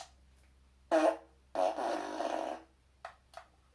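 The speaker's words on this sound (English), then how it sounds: "Bella and Bo laughed at the fish who had farted" A cartoonish fart sound effect in a children's story about a fish, two separate blats, a short one then a longer drawn-out rasp, loud and close, followed by small trailing squeaks.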